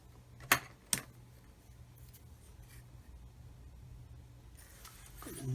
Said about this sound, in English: so I'm just going to cut that there, 3 millimeters long, put my finger on the plastic to save it flying off the end